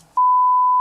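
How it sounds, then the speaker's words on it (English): A smoke detector sounds a low-battery beep inside a home: one loud, steady electronic tone holds for most of a second with nothing else around it. "This beeping noise was actually just the low battery sound from the smoke detectors in the Turpin's home"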